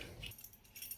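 Car keys for a Nissan 1400 jangle softly in short metallic bursts as tags are attached to the key ring, close and faint with no talk.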